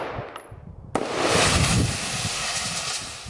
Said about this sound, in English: Oh, you shot a third one.